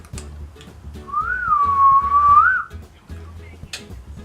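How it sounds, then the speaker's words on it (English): A person whistles a single wavering, sliding note for about a second and a half, close and clear, over faint background thumps. "I recently learned how to whistle."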